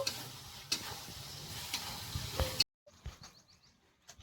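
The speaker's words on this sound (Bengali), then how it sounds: "দিয়ে একবার আমি মশলাটা ভালো করে কষিয়ে নেব" Spice paste with Kashmiri chili powder and whole green chilies being stirred and fried in a pan for chicken kosha, a steady sizzle with scraping stirs, then quieter, sparser frying after a brief pause.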